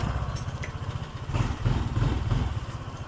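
Honda PCX 150 scooter with keyless ignition and a no-start fault, starter pressed so the engine cranks in steady low pulsing bursts that swell louder mid-clip, close up with no talk.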